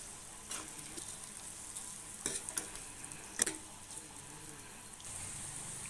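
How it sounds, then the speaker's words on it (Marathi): Masala with red chilli powder sautéing in a pan makes a soft, steady sizzle, with a few sharp spatula scrapes and clicks against the pan in the middle. "आता इथे मसाला व्यवस्थित परतून झालेला आहे"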